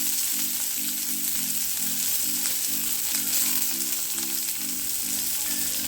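Green chili and onion sizzle in hot oil in a pan while noodles are being made, a loud, close, continuous frying hiss that runs throughout over a steady, slightly pulsing hum.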